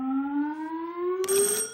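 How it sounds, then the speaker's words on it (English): An electronic game show buzzer sounds during a comedy news quiz, a steady sustained tone with a harsher burst near the end, alone and moderately loud. "Fingers on buzzers, teams."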